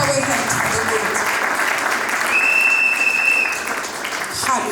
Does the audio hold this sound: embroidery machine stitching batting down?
no